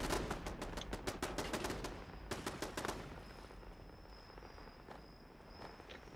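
Automated defense turrets in Fallout 76 fire rapid, regular bursts of shots, dense at first and then thinning into sparse pops, with a thin steady high whine running beneath and no talk over it.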